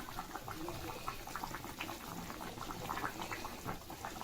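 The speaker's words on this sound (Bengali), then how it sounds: "এটা একটু ফুটুক" Pabda fish curry with mustard oil bubbling in a pan, a dense, continuous close simmer with soft popping bubbles throughout.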